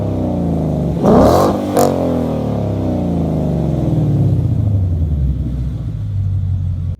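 A Ford Mustang GT 5.0 with an aftermarket exhaust revs close up, giving a sharp double blip early on and then a deep, loud, rumbling drone that sweeps and slowly fades as the revs drop.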